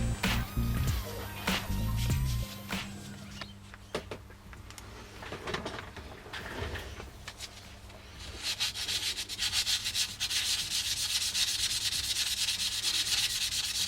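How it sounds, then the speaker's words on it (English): Andamooka matrix opal stone, hand-cut and treated, rubbed on 400 grit abrasive: a steady scratchy sanding sound with rhythmic back-and-forth strokes, close and fairly loud, with a few knocks and handling noises early on. "I'm going to start it off on a bit of 400 grit."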